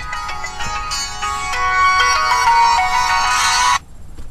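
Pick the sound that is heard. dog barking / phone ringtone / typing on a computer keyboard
phone ringtone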